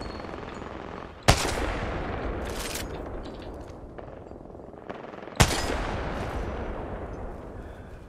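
Gunfire in the video game CS:GO: two sharp, loud shots stand out, each followed by a dense rattling burst and echoing tail, with quieter scattered firing in between.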